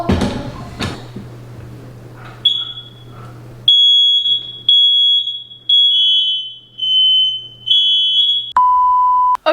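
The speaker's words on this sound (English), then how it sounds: "We're gonna have to fix that because I can't have that beeping all the time." High electronic beeps repeat loudly in short bursts, each a sharp piercing tone, after a few bumps and clatter at the start.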